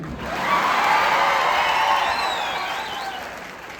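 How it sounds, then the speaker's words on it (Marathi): A crowd at a student career guidance event in Nanded breaks into loud applause mixed with whoops and cheers, swelling quickly, then slowly tapering off. "आणि आता जोरदार टाळ्या होत्या माझ्यासाठी"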